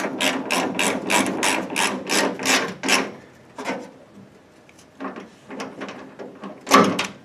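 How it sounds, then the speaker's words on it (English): A ratchet tightening the inner nut on a Mustang door glass, a quick series of loud rapid clicking bursts, then a pause and a few shorter ratcheting bursts, close up with no speech. "The other thing I want to do is tighten up the nut that's on the inside."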